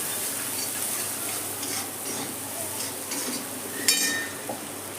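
Spices with roasted cumin and pepper powder sauté in a pan, a soft steady sizzle with faint stirring and a sharp utensil clink near the end.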